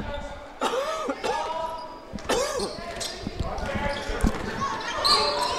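Several sharp coughs come in bursts at a boys' high school basketball game, close and fairly loud, mixed with a voice and some rustling noise.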